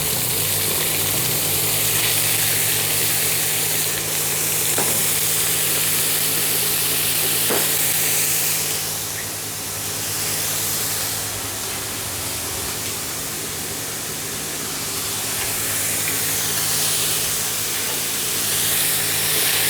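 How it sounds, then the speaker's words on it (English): Diced bacon sizzling in a pan brought up to temperature, a steady broadband hiss that holds throughout, close and fairly loud, with no talking over it. "And we just bring our pan up to temperature. Straight in with our bacon."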